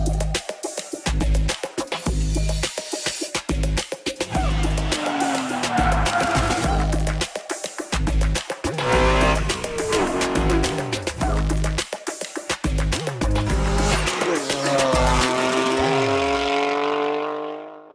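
BMW G80 M3 fitted with a Valvetronic FI exhaust, loud and close, its engine revving hard with rising and falling pitch sweeps and crackles through gear changes, continuous for the whole stretch.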